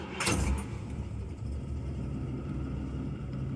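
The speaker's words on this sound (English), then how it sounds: "Here's a cold start after sitting all night." A 1977 Cadillac Eldorado engine cold-starting after sitting all night: a brief crank and loud catch, then a steady, low, rumbling idle up close.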